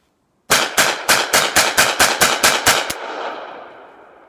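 A Chiappa M1-9 carbine fed from Beretta M9 magazines fires ten rapid, evenly spaced shots close up after a moment of silence, each sharp crack ringing out, with echo trailing off after the last round.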